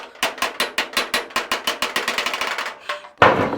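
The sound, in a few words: hammer tapping out a car body dent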